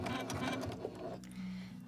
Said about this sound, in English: I'm going to start right here, and I'm just going to sew it right at a 90-degree angle